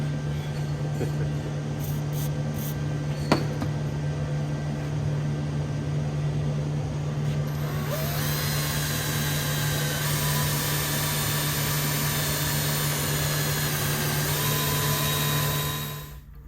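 A power drill whines steadily for a long stretch, its pitch rising as it cuts into metal on a Honda Jazz engine mount, over a constant low hum, then winds down.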